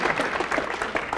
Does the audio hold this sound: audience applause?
yes